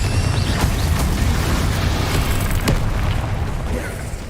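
A Confringo spell explosion in Hogwarts Legacy, a loud, dense, roaring boom that rumbles steadily with faint crackles and slowly eases off.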